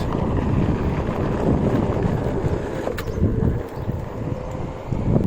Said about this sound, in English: It's not terribly windy, just a little bit.